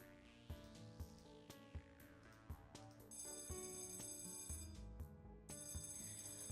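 A bell rings in a hospital ghost video game, giving a quiet, steady electronic ring with bright repeating tones that swell partway through, along with a few sharp ticks and no talk.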